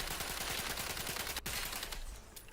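Rapid gunfire from a weapon in the video game The Outer Worlds 2, a dense burst of repeated shots that stops for a moment, then resumes and fades near the end, with no speech.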